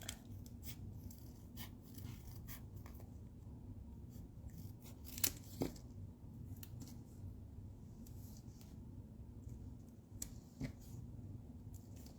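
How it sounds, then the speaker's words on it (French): Scissors cut paper card pieces for a stamped card, with quiet, close snips and a couple of sharper clicks over a low steady hum, and no one talking. "je vais le couper en deux comme ça"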